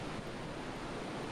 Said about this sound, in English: Gives you a good sense of the flow rate of the river there.